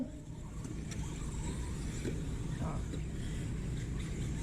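Electric RC cars race around an outdoor raceway track in a 40+ class main event, a steady whining motor drone of several cars circulating at a distance, with a few faint passing surges.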